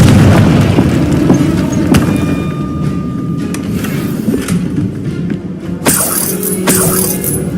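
A Confringo blasting spell goes off in Hogwarts Legacy, a heavy booming explosion with rumbling debris that starts loud and trails into sustained noise, then a second sharp crack and shattering burst near the end.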